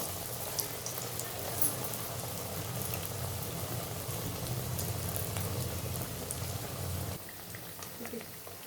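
Masala vada frying in hot oil, a steady crackling and bubbling hiss that holds for several seconds and eases slightly near the end.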